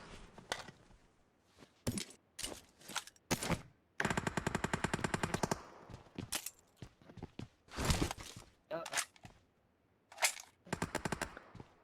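Bursts of automatic gunfire in a PUBG match on the Erangel map, several short volleys and single shots with one sustained rattling burst, close and loud, separated by quieter gaps and light footstep-like movement.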